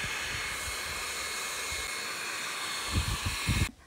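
A hair dryer blows on raw chicken to dry it before cooking, with a steady airy roar, close and continuous, with some low thumps near the end before it cuts off.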